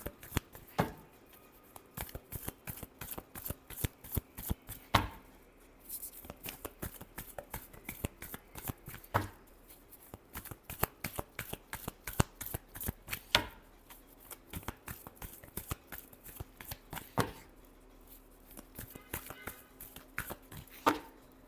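Riffle shuffles of a tarot deck, close and crisp, each a fast flurry of card clicks, repeated in bursts every few seconds with sharper slaps as the deck is squared; no talking.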